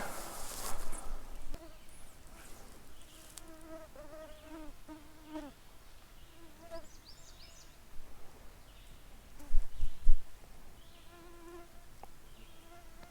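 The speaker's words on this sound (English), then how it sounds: "Can you guys tell how bad the mosquitoes are?" Mosquitoes whine around a small Michigan trout creek, several thin buzzing tones swelling and fading as they fly close past, with a few louder rustles and bumps and no talking.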